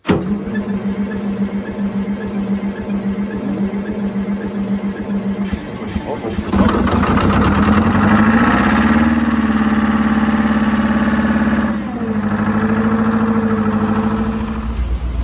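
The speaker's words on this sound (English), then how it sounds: "This truck is still running." A farm truck engine turns over and runs, a rough close idle rumbling throughout, then a surge as it revs up and settles back to a steady idle, loud and near with someone talking over it.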